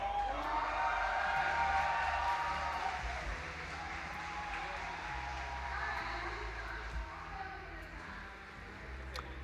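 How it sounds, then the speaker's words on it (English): Live audience at a StarCraft 2 Grand Finals esports event cheering and applauding, a steady distant crowd roar under a caster's amplified voice, slowly easing in level. "All right, guys, give a big cheer."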